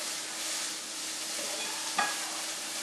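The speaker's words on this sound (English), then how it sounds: "So you will go ahead and throw that pepper in there and give that a good stir." Vegetables seasoned with ground pepper sizzle steadily in a pan for a fluffy vegetable frittata, with one distinct spatula scrape partway through; no voices.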